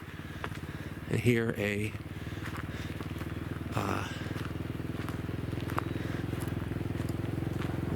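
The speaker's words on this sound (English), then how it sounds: "motorized vehicle, motorcycle, whatever you call them." A motorcycle on a hiking trail, an old road, passes by in a brief, fairly close burst around a second in, followed by a fainter second pass, over a steady low engine hum.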